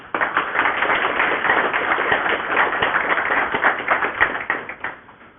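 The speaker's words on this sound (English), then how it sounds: "can we have a round of applause, please?" Conference audience at an Ubuntu talk at SCALE 13x breaks into sustained applause, dense clapping from many hands filling the room for several seconds.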